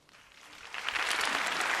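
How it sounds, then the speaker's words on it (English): Audience applause in a film's standing ovation swells from faint scattered clapping into a dense, sustained roar of hands, heard at a moderate distance. "Standing ovation from the crowd"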